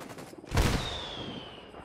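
Heavy explosive blast from mortar fire in the tactical shooter Ghost Recon Wildlands, a single loud boom with a rumbling low tail that fades slowly, a thin high whine lingering over the decay.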